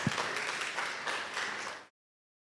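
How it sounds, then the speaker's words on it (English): Audience applause for panel speakers being invited onstage at a green tech panel session on a library stage, a fairly quiet, even wash of clapping that cuts off abruptly near the end. "Please give a round of applause"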